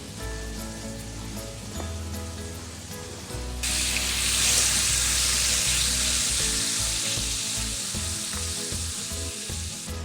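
Meat sizzles in a hot pan, a dense crackling hiss that swells louder midway and continues steadily, with soft background music underneath.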